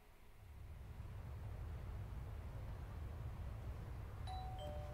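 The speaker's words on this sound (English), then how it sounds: "Ding dong." A doorbell chimes in the video game Lost Judgment, a brief two-tone ding near the end over a steady low background hum.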